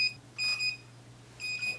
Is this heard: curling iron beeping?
yes